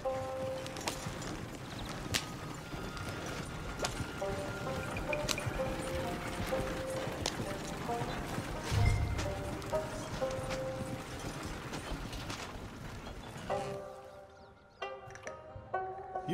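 Horse hooves clip-clopping steadily at close range in the Western video game Red Dead Redemption 2, mixed with game music and ambience, with a brief low thump near the middle; no clear whinny stands out.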